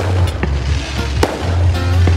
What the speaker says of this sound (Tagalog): may pre-fireworks pa kasi may kinakasal doon sa katabi ng beach